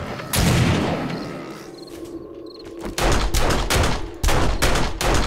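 Loud bursts of rapid automatic gunfire in the survival zombie video game 7 Days to Die, with a quieter lull between volleys and faint insect-like chirps in the background.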